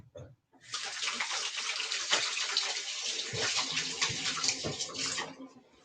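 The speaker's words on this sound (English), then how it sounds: "I'm going to wash my hands to start the smoothie." Tap water runs steadily into a sink during handwashing before a smoothie is made, a continuous broadband splash from start to nearly the end, fairly close and alone without talk.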